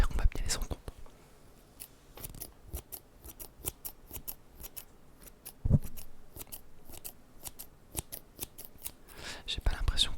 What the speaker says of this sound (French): je vais commencer avec un trigger, ce qui était les ciseaux